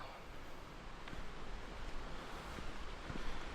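A small forest waterfall heard as a steady, broad rushing wash of water, faint and distant, with no voices over it.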